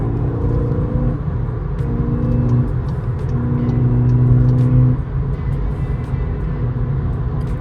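A VW Polo GTI with a 2-liter turbo petrol engine and 6-speed DSG accelerating hard, loud whirring engine note rising through gears with brief shift dips, close and continuous without speech.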